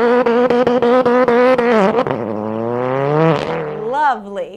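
A Subaru WRX STi gymkhana car bangs rapidly off its rev limiter, then holds and sweeps its engine note up and down in long rising revs while doing a tire-smoking skid, loud and close.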